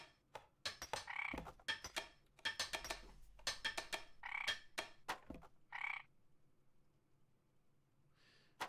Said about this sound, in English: Yeah, the frog sound is coming from just one ear.